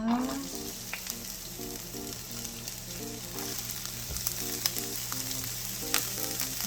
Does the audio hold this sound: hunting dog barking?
no